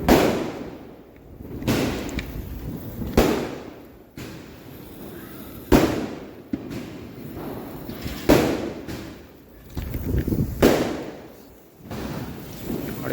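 Diwali firecrackers burst outdoors one after another, a string of sharp booms and thumps spaced a second or two apart, some near and loud and others duller with rumbling tails.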